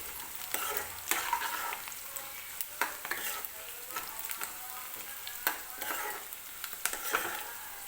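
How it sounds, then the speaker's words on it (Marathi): Dried red chillies and spices roast in oil for raw-mango rice and are stirred steadily, giving quiet, continuous frying with frequent clicking scrapes of the spoon against the pan. The sound is close and fairly soft, and nobody talks. "तर आता मी हे सगळं एकत्रच मिक्स करून घेते आणि हे आपल्याला व्यवस्थित तेलामध्ये भाजून घ्यायचं आहे"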